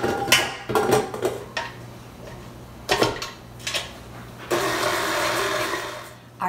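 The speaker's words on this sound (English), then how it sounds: "so then you're just mixing that into the mixer" Electric mixer beating butter and sugar into cookie dough in a home kitchen, a whirring motor running in bursts with clattering bowl sounds, then a steadier louder stretch of mixing near the end.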